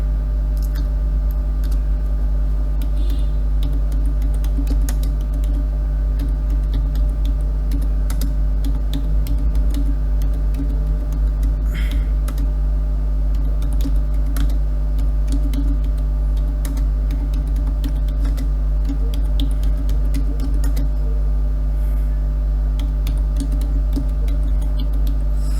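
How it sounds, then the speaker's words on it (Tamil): Steady typing on a computer keyboard in a Windows setting, a fast run of small key clicks over a loud constant low hum that lasts throughout. "ஸோ இதில் நான் டைப் பண்ணுறேன், டைப் ஆகுது."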